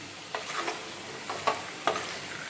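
Chicken curry masala with potatoes stirred and sautéed in a pan, a soft steady sizzle broken by three scraping stirring strokes spaced apart, close and fairly quiet with no voices.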